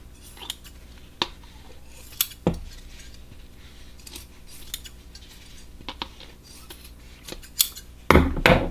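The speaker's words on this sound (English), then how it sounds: "I want to just kind of trim off these little edges." Scissors snip along fabric edges in short sharp cuts scattered over several seconds, close and crisp, with a louder rustle of handling at the end.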